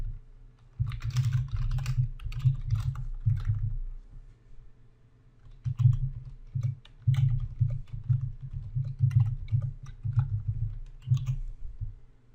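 Rapid bursts of typing on a computer keyboard as data for students and scores goes into an Excel 2013 spreadsheet, close and steady with short pauses between runs of keystrokes.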